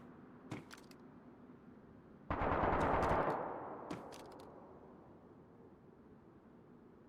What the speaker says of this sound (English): shots near, shots near